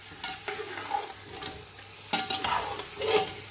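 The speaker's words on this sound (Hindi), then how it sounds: "इनको अब आपने अच्छा सा भूनना है।" Whole dry spices, including cumin and dried coriander, roasting in a pan for chicken pulao, with a soft, steady sizzle broken by scraping stirs and a few louder clatters near the end.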